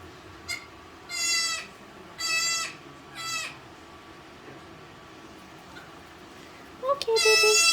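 A baby goat kid with low body temperature gives several short, nasal bleats in quick succession, close by and fairly loud, separated by quiet gaps, with a final louder bleat at the end.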